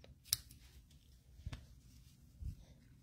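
Scissors trim paper for a handmade card in a few quiet, sparse snips with soft handling noises between them.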